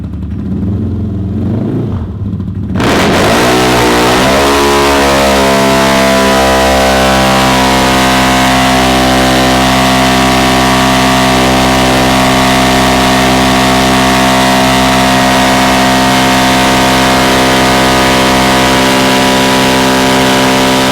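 A CFMOTO engine makes a low-gear dyno pull. It runs at a loud, steady high drone with rising harmonics from about the three-second mark, after a brief quieter start, and no voices are heard.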